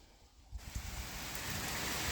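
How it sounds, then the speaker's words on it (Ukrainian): Steady rain falls on a garden on a Saturday, a dense broadband hiss that starts quieter and swells after the first half second into a continuous, fairly close wash of drops with no voices. "а у нас сьогодні дощ. Сьогодні субота і такий гарний дощик"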